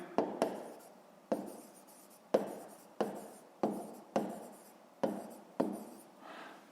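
Pen or chalk writing out a grade-five math solution, a series of about nine sharp taps and scratchy strokes at an uneven rhythm, close and fairly quiet, with no speech.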